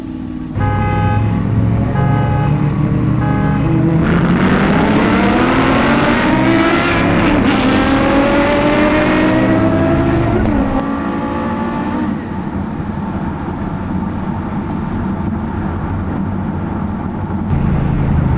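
An AC Cobra racing hard, its engine loud and close, revving up through rising pitch sweeps with gear shifts breaking the climb, then settling into a sustained roar.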